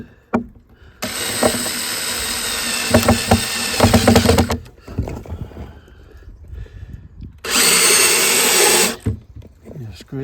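A power drill drives smaller screws into a thin plywood box, with two sustained whirring bursts of a few seconds each, separated by knocking, handling clatter and a few brief sounds that may be talk.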